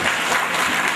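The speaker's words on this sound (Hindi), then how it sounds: "मेरा जोक खत्म हो गया है, तालियां।" A dense burst of audience clapping after a joke at a compered stage show, loud and continuous through the whole second.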